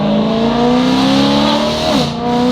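A car engine holds a steady, throaty idle-to-rev drone with a muffled exhaust note, exhaust valves closed, one brief dip in pitch near the end, loud and close.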